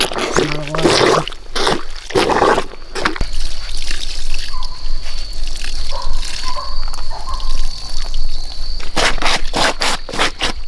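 Water running and sloshing during the rinse cycle of an off-grid homestead washing machine, a steady trickling wash with splashy bursts at the start and end, fairly loud and close, with brief talk over it.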